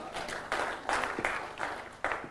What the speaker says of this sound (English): Whoever he is, he just got applause.